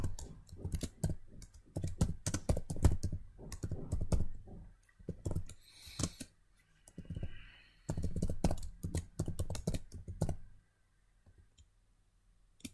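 Rapid bursts of computer keyboard typing, close and fairly quiet, come in clusters of clicks with short pauses between them, then stop near the end.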